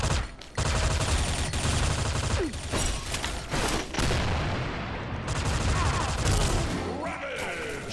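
Gold Kris SV-CRB firing in a video game, rapid loud bursts of automatic gunfire with sharp cracks and brief pauses between volleys, mechanical clicks in gaps, and someone talking under the shooting.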